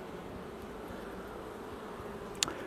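Honey bees on a hive frame in early March, giving a steady, soft, low buzzing hum throughout with a brief click near the end.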